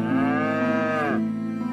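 A single cow moos once, a long, loud, close bellow that holds steady and then drops off abruptly, heard alone with no speech.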